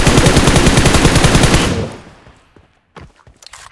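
Rapid automatic gunfire from PUBG Mobile, a loud close burst of evenly spaced shots lasting nearly two seconds, then fading out, with a couple of faint clicks afterward.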